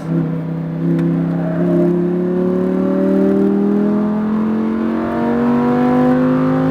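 A Lamborghini Huracan accelerating hard on a track, its engine note climbing steadily in pitch through a sustained, loud rising drone, heard from inside with no talk.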